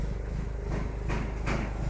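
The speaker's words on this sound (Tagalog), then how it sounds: "marinig nyo maingay yung generator" A generator running on a farm, giving a loud, steady low engine drone throughout, with a couple of brief knocks layered on top and no talk.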